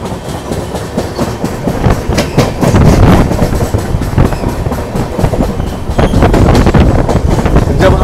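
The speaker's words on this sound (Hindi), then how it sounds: "चेन्नई एगमोर की ओर जाने वाली ये ट्रेन है, तेनकासी सेंगोट्टई वाले रूट से जाती है, और आज इसमें इलेक्ट्रिक इंजन लग रहा है।" Garib Rath Express train hauled by an electric engine on the Tenkasi–Sengottai route toward Chennai Egmore runs loud and close, with rhythmic clickety-clack of wheels, rumbling carriages and wind buffeting the microphone.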